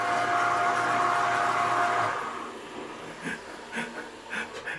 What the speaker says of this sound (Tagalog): Yung flush niya parang flush ng ano, aeroplano.